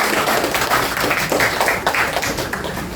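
Scattered clapping from a classroom of students, a brisk patter of hand claps running steadily for a few seconds at moderate loudness.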